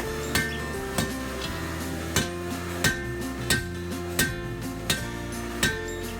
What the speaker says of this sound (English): Whenever I'm forging the point onto a bar of steel, I usually like to start with a heavier hammer,